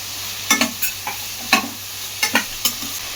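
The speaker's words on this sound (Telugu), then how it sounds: "హైలోనే ఉందండి స్టవ్, బాగా వేగనివ్వండి. ఉల్లిపాయలు ఎర్రగా వేగాలి." Sliced onions and cabbage frying on high heat in a pan, a steady sizzle broken by a series of sharp scraping clacks as a spoon stirs them, close and without talk.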